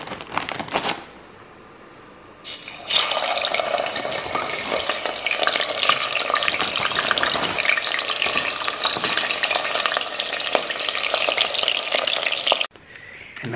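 After a brief quiet start, a pan bursts into loud, steady sizzling and crackling that carries on for several seconds before cutting off abruptly.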